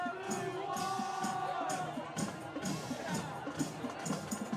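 A high school varsity football crowd cheers and murmurs steadily through the stands, a broad continuous roar with occasional whistles, while an announcer talks over it.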